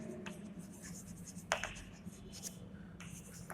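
Pen scratching across paper in short strokes during an accounting lesson, quiet and close, with a sharper scribble burst midway and faint room background.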